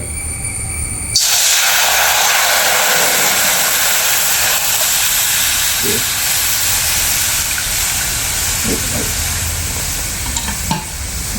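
Water comes to a rolling boil in a thick pan on the stove, a steady, loud, broad hiss that begins abruptly after a second of quiet and holds without a break, no voices.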